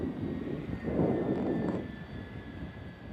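Boeing 767 jet airliner, about 29 years old, at San Francisco International Airport, a steady broad engine roar that swells around one second in and then eases to a fainter hum, heard from a distance with no talk.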